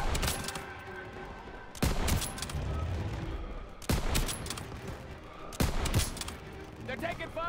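Call of Duty WW2 street combat: three loud bursts of rifle and machine-gun fire crack out a couple of seconds apart, each followed by rumbling echoes and battlefield clatter, with voices mixed in.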